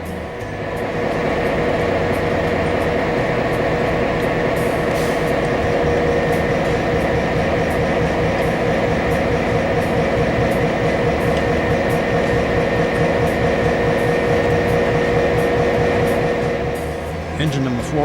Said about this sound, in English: Engine number 488 is an EMD FL9 which ran on the New Haven Railroad and then on Amtrak.